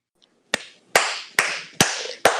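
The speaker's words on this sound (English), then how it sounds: "Peony turns back around and claps at the statement" Five sharp hand claps, spaced evenly at a slow, deliberate pace, close and clear in an otherwise quiet room.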